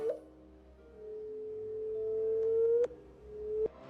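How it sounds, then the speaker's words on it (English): Two black holes merging, rendered as sound: a thin, quiet sine-like tone slowly rises and ends in sharp chirps, alone over a faint low background. "this is actually the sound of two black holes devouring each other."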